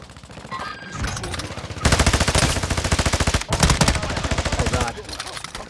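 Rapid automatic gunfire in Call of Duty: Modern Warfare II, loud and close, firing in long sustained bursts with a brief pause partway through, over faint background voices.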